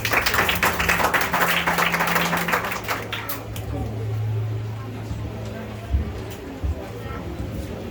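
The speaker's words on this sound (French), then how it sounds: "je vous demande d'applaudir chaudement" Graduation ceremony audience gives warm applause for the kindergarten section head, dense clapping for about three seconds that thins out, followed by low murmur and room noise.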